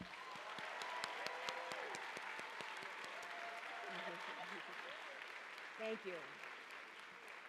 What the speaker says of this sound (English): please join me in a round of applause for Liz and Channing